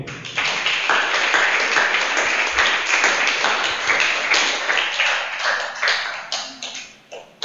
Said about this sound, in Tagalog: Palakpak po muli.